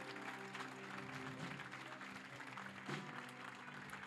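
Church congregation applauding steadily throughout, a dense wash of clapping with some crowd noise and music underneath at a Spanish-language worship service.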